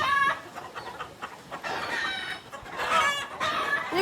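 A flock of large fighting roosters at a poultry farm in Sulur clucks steadily nearby, with louder bursts of calling and crowing coming and going and no talk.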